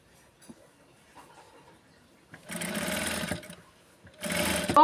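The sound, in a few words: sewing machine stitching a blouse petticoat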